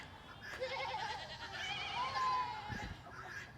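A goat on a farm bleats in a couple of wavering cries, close and fairly clear over quiet background noise, with no one talking.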